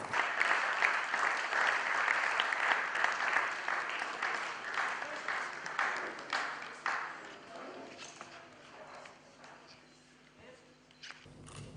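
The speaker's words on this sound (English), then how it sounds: "can we please have a big round of applause for the departed soul" Applause for a departed woman at an awards ceremony honouring lifetime achievement; a large audience claps loudly and steadily at first, then gradually thins and fades to scattered claps over about twelve seconds.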